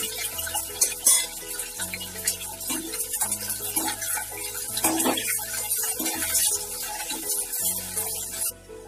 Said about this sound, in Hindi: अब हम इसमें शिमला मिर्च फ्राई करेंगे।